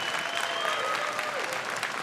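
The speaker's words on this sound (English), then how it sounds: "So yeah, you can give them a clap." A school concert crowd claps steadily for beginning and symphonic bands, moderately loud applause with a faint voice or tone under it.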